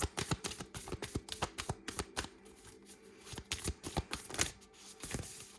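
A deck of cards being shuffled up close, a quick run of sharp riffling flutters and snaps in repeated bursts with brief pauses between, no talking.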